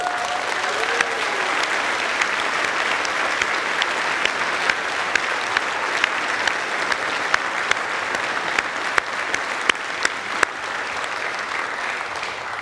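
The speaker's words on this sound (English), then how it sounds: "You're not on mute, you're allowed to thank them and applaud them." Long, steady applause fills a University of York graduation ceremony hall as the audience claps for friends, family and supporters, dense and continuous with a few sharper individual claps standing out.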